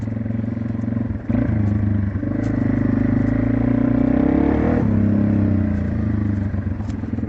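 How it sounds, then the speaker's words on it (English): A Yamaha TW200 trail motorcycle on its stock exhaust runs close by on a muddy trail, a steady thumping single-cylinder drone with a brief throttle blip and slight pitch rise before settling back. "Man, this thing sounds good though for a stock exhaust on here."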